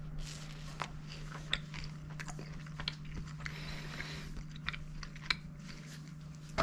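Someone bites into and chews a crispy quesadilla with gooey cheese dipped in cold salsa, soft repeated crunches up close against a quiet room hum.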